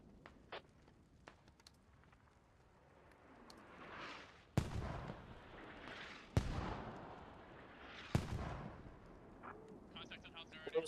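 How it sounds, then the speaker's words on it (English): Mortar fire in the Squad video game: three loud, sharp blasts about two seconds apart, each trailing into a long rumbling decay, with rising whooshes and scattered small clicks before them. "Russian mortars will be responding here shortly."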